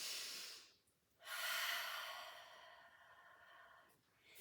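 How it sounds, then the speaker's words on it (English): Deep breathing during a Pilates mat class: a long, airy inhale, a brief pause, then a sustained exhale fading out, with a new breath starting at the end, close and soft, no talk. "We're going to take one more deep inhale."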